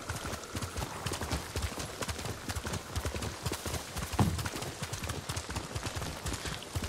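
Steady clip-clop of horse hooves at a trotting rhythm in the video game Ghost of Tsushima, continuous and fairly close, with a faint whinny-like sound midway.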